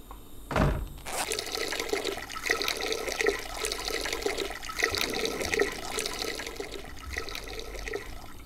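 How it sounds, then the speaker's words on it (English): A toilet flushes in The Sims 2 University, set in a Greek house: a sharp whoosh at the start, then a long, fairly quiet stretch of rushing and refilling water. "So now he needs to go to the toilet again"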